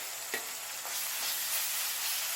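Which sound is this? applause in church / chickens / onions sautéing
onions sautéing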